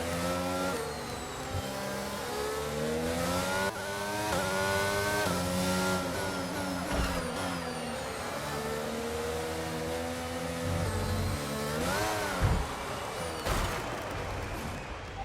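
A Formula 1 car engine in the video game F1 2022 at Singapore climbs and falls through its revs in repeated accelerating sweeps and downshifts, loud and continuous with no talk.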